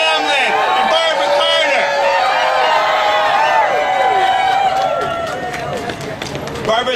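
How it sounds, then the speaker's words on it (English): A crowd at an outdoor vigil in Seattle against the Keystone XL pipeline cheers, whoops and claps loudly and steadily for several seconds before the noise tapers off. "Can we get a little cheer for Lisa Leggio, Vicki Hamlin, and Barbara"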